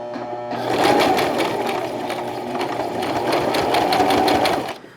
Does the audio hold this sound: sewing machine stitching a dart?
yes